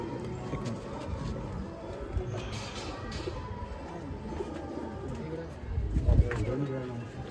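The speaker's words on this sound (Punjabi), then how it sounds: "ਇਹ ਭਾਜੀ ਲਾਲ ਅੱਖਾਂ 'ਚ ਕਬੂਤਰ ਹੈਗਾ" A red-eyed pigeon on a rooftop loft coos softly in repeated low, throaty phrases, while people talk nearby.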